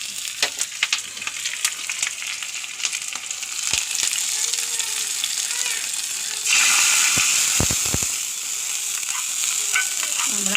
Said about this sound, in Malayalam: ഉള്ളി മുരിഞ്ഞ് 2 വേപ്പിൻ്റെ ഇല ഇടുന്നു